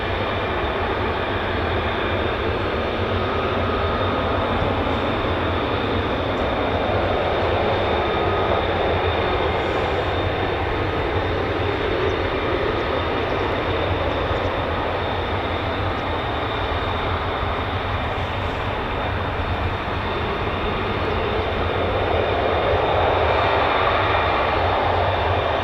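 F-15 fighter jets taxiing for departure at RAF Lakenheath, a continuous loud roaring jet engine whine that holds steady throughout with a slight swell near the end, no voices.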